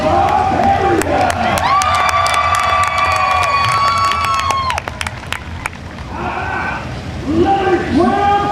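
A large crowd cheers, whoops and claps at a monster truck show, loud and close, with shouting children and an announcer's amplified voice over the roar, which dips briefly before swelling again.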